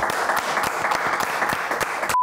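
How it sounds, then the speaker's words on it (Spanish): A studio audience at a comedy talk show claps in a dense, steady burst of applause, close and even, then cuts off abruptly into a brief steady tone. "Un aplauso, chicos."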